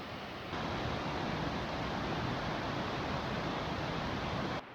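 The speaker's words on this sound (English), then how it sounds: "Now this is a waterfall" Pigpen Falls on the Foothills Trail in the South Carolina–North Carolina hills gives a steady, dense rush of falling water that holds evenly throughout, with no voices.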